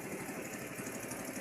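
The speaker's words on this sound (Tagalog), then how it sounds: "may dumadaan ng motor" A motorboat engine hums steadily as it passes on the water, a constant mid-pitched drone at moderate distance with no voices.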